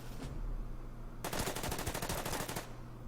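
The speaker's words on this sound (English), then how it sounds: "Some return fire from that bunker" Return gunfire from a bunker in the Bougainville battle of the wargame Order of Battle, with US Marines attacking: a single sharp shot, then a rapid machine-gun burst of a dozen or more rounds lasting over a second, fairly close and alone.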